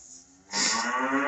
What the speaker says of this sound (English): Cows are sneaking over here because I know it's about time.